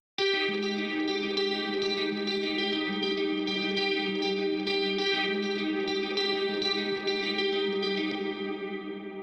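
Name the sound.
clean electric guitar tone with chorus ambience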